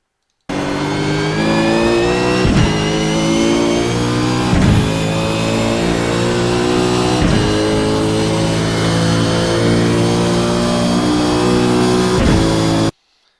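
A race car at Imola accelerates hard out of a corner, engine note climbing steadily through the gears with brief dips at upshifts, loud, close and continuous, with no voices.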